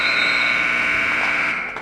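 An end-of-quarter buzzer sounds at a boys' high school basketball game in a gym, a loud, steady electronic tone held for nearly two seconds before it begins to fade.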